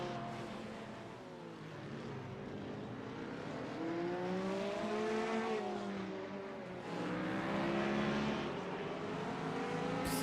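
A Porsche race car in the iRacing sim at Imola, its engine droning steadily and loud with rising and falling pitch through gear changes, shifting harmonics as it accelerates out of a corner, with no talk.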